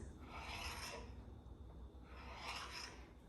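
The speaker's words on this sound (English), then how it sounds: "I'm just gonna cut the tortilla" A butter knife cuts a corn tortilla into strips, giving two soft, close scraping strokes about two seconds apart, faint and with no talking.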